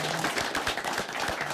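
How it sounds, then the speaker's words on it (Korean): An audience gives sustained applause to welcome the president, who is visiting Confucian scholars in Andong, North Gyeongsang. The clapping is dense and steady, with no voices over it. "우리 큰 박수로 환영해 주십니다"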